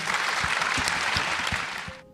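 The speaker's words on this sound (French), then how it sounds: "il faudrait les applaudir encore plus fort" A dense wash of audience applause at a film screening and debate, steady and full, with a few soft low thumps beneath, tapering away at the very end.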